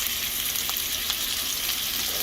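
A steak fries in a pan, an even, dense sizzling hiss at moderate volume with a couple of faint ticks, continuous and unaccompanied by voices.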